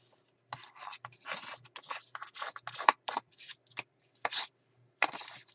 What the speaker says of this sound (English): I'll go ahead and fold this page in half.